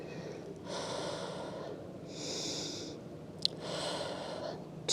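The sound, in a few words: deep breathing during a Pilates exercise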